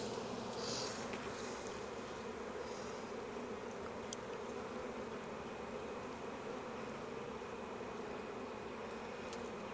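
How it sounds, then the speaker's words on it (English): A steady, dense buzzing of many honey bees around a five-frame nuc hive fills the air continuously, close and even in level, with no talking. "Good population of bees though."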